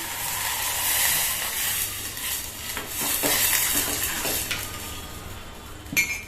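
Vegetable fried rice ingredients sizzle and hiss in a pan over a medium flame as slurry goes in, with steady scraping stirs throughout and a sharper metallic clink near the end; no one speaks.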